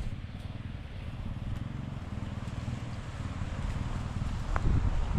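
Strong wind blows across a string bean field, a steady low rumble of gusts buffeting the microphone that grows slightly stronger near the end, with no voices.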